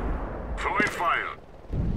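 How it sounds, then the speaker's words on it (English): An incendiary grenade thrown in CS:GO bursts into a loud, two-second roar of fire, with a short voice call sounding over the blast. "Throwing fire."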